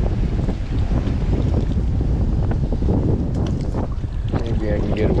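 High wind blows on open water during bass fishing, a constant heavy roar of gusts buffeting the microphone, with the slap of water under it and a faint voice near the end.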